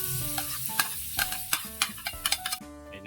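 Hotdogs fry with garlic and onion in a pan, with a steady sizzle broken by repeated close scraping and clacking strokes of a spatula stirring the food.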